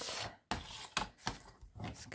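Junk mail paper is chopped for collage bookmarks, giving a few sharp, close cutting thuds separated by short gaps, with rustling paper between strikes.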